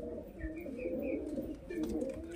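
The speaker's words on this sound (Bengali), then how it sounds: "কোয়ালিটি দেখুন পায়রার" Domestic breeding pigeons coo softly in a loft, low rolling calls repeating over a faint background, close but quiet, with no talking.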